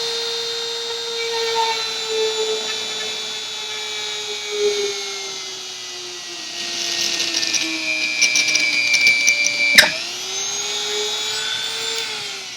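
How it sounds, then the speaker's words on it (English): Power drill boring through the top layer of plastic hula hoop tubing and the insert inside, a steady whining motor held for several seconds with pitch shifts as the bit bites, then a sharp catch and spin-down. "drill through the top layer of tubing and through the insert"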